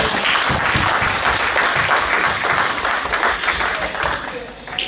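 A church audience claps and applauds in a dense, sustained wash of hand claps that holds steady for several seconds before easing slightly at the end.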